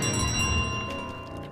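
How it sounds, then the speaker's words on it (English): A bell chiming in Untitled Goose Game, a steady sustained ringing tone with lingering overtones that slowly fades over a soft background. "What's with the damn bell?!"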